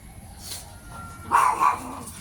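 A dog gives a couple of short, muffled barks a little way off, over a low background hum.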